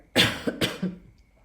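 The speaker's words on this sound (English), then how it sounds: "I need to clear my throat." Two short, rough throat-clearing bursts close to the microphone, followed by a brief fading grunt, with no speech.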